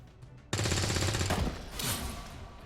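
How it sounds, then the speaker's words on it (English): Burst of video game gunfire from XCOM 2, a sudden loud sustained volley with rapid repeated shots, fading into a rumbling tail with background game sounds. "let me shoot one guy in the face"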